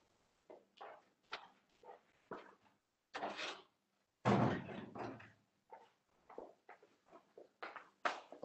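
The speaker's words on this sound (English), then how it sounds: "Let me close the door." A door being closed in a home gives one loud, heavy thud partway through, set among quieter knocks and rustling bumps close by.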